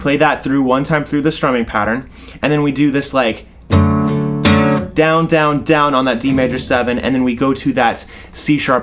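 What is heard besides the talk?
No everyday noise stands out behind the speech.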